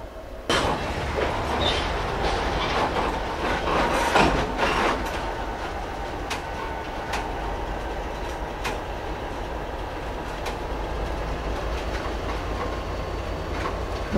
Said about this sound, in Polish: Zobaczymy teraz, jak ten zestaw pojedzie.